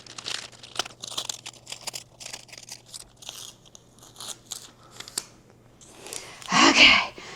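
Tape peeled and crinkled off a wrapped painting, a run of close crackly rustles and short tearing bursts ending in a loud rip, with a faint steady hum underneath.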